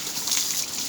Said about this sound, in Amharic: ውሃ ሳጠጣ ውሃው ድምፅ ብቻ ሀገሬን ስለሚያስታውሰኝ ደስ ይለኛል፣